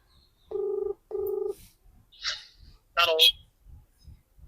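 A telephone bell rings in two short repeated bursts, close and clear, followed by brief voices and a sharp higher tone, with a faint ticking rhythm in the background of a family household.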